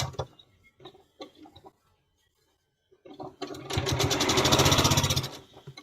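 Domestic sewing machine stitching a 12-inch quilt block, a fast steady mechanical whir that starts after a few soft clicks and handling taps, building loud and close for about two seconds before easing off.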